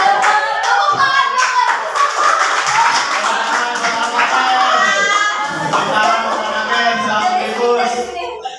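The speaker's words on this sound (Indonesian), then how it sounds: "Tepuk tangan," A group in a classroom claps their hands, loud and close, with a quick rhythmic pattern of sharp claps mixed with children's voices and chatter throughout.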